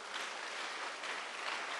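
Congregation clapping hands during a Christian retreat sermon, a sustained even wash of applause from many people, fairly distant and soft, with no talking on top.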